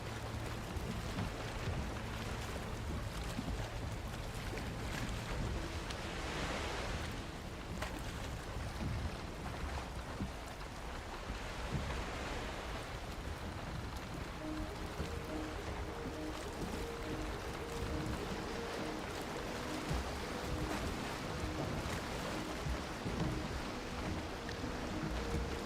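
Boat sailing over waves in the Valheim video game, a steady, soft rush of water and wind noise holding evenly throughout with no talking.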